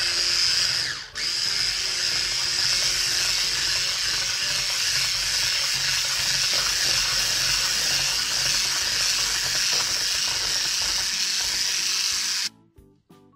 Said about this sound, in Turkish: Şimdi çırpmaya başlıyorum.